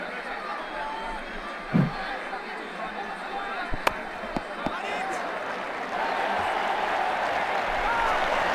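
Crowd applause in the Ashes Cricket 2009 video game, a steady wash of clapping and cheering that swells toward the end, with a few sharp knocks along the way.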